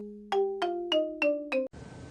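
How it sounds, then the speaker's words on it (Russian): Xylophone played in a short descending run of five clear struck bar notes, evenly spaced and ringing briefly, followed by a soft hiss. "Xylophone. Ксилофон."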